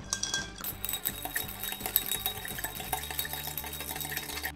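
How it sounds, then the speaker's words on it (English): Ice clinking against glass as a smoked old fashioned with rye and maple syrup is stirred, a steady run of light, close chinks and swirls with no talking. "Let's stir for about 30 seconds."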